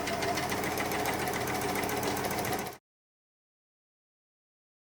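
A serger sewing machine runs a test seam with threads guided between blade and foot, giving a loud, fast, even mechanical whir for under three seconds before stopping abruptly into silence.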